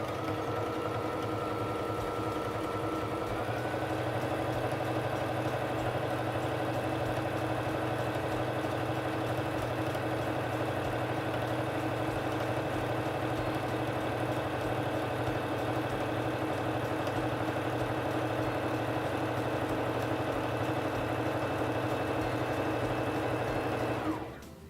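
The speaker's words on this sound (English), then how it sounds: "press on the foot control to begin sewing" A Singer Fashion Mate 3342 sewing machine runs steadily, sewing a honeycomb stitch with a continuous mechanical whir and rapid needle clatter that holds at an even pace, with no talking, before cutting off at the end.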